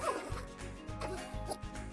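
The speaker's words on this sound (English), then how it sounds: "Gonna zip it up." A zipper closes a cargo carrier bag mounted on the rear of a Ford Bronco, with several short rasping pulls close by and no voices.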